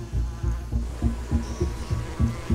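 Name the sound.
honeybees swarming at hive against attacking hornet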